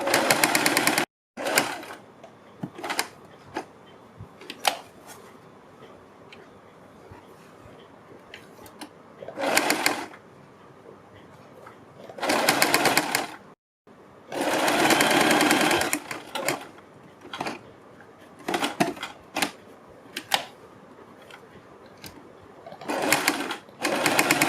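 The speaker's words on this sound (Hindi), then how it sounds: "इस पट्टी को रखना है और तब इस पर हमें सिलाई लगानी है।" A sewing machine stitches a strip onto the neckline of a suit, running in short intermittent bursts of rapid mechanical whirring separated by quiet pauses, close and clear.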